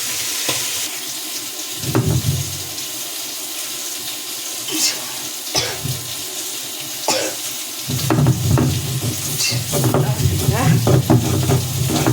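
Fish fries in a pan with chili, giving a continuous sizzle broken by bursts of stirring and clattering, and running water from a tap is also heard. The frying grows louder and busier toward the end.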